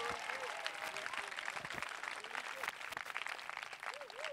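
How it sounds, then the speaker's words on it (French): Church congregation applauding during a Sunday worship service, a dense continuous patter of clapping with voices rising over it. "Acclame Jésus ce matin."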